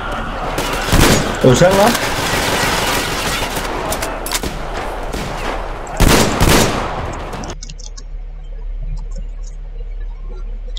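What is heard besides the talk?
shotgun fire in the video game Metro Exodus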